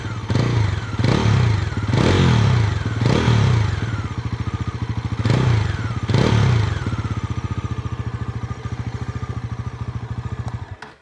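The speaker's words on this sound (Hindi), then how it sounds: "उसका एग्जॉस्ट नोट सुनाता हूँ।" Bajaj Pulsar NS400z motorcycle at idle with a steady low exhaust burble, blipped six times in quick succession, each rev rising then falling back, before settling and cutting off at the end.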